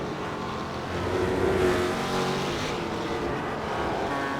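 GT race cars, McLarens among them, lapping Circuit Gilles Villeneuve during a Blancpain Sprint Series race, a steady engine roar heard from a distance that swells briefly as a car passes.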